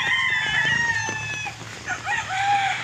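Gamefowl roosters crow repeatedly at a middle distance on a gamefarm while chickens cluck nearby, the farmyard calls overlapping in a steady outdoor din.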